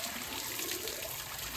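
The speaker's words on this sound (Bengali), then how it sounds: "তো এইভাবে বাঁশের মধ্যে জল ভরে রাখলাম" Water trickles and pours steadily into hollow bamboo tubes outdoors, a continuous close splashing wash with no pauses.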